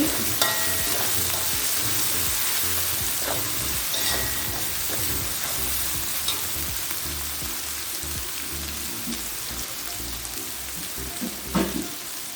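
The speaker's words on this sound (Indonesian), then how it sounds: "Ini ditumis sampai naik wangi." Spice paste for soy sauce chicken being stir-fried, with a loud, steady sizzle broken by repeated scraping stir strokes and a clatter of the utensil near the end, no talking.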